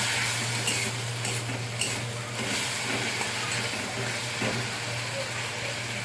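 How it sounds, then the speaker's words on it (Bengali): Masala spices bubbling in a pan after a little water is added, a steady close sizzle and simmer with occasional stirring clinks and scrapes, no talking. "জলটা দিয়েছি, মশলাটা ফুটে উঠেছে।"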